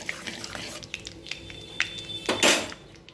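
A utensil clinks and scrapes against a wok while black cumin seeds are stirred in hot oil, with a soft sizzle beneath short metallic taps and a louder splashing swirl near the end.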